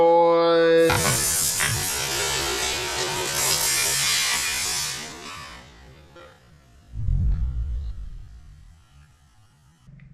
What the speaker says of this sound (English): This Schutz pump is vented at the top there.